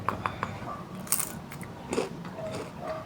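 A bite into the crunchy flattened edge of a pan-fried dumpling gives a few crisp crunches and chewing sounds, close up, with short pauses between them and no talk.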